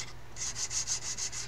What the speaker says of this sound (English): I'm just checking areas I missed with that sanding stick.